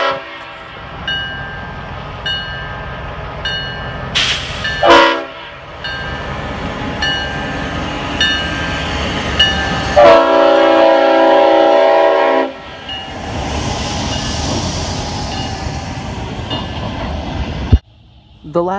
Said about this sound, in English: This is one of a few CSX locomotives to still proudly carry a Leslie RS5T, its mournful whistle sounding